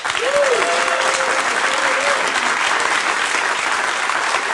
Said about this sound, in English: This guy speaks and applause breaks.